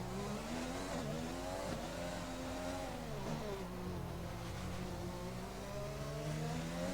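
An F1 car in the F1 2020 video game on hard tyres, its high-pitched engine whine rising and falling steadily through gear changes, continuous and close, with no talking.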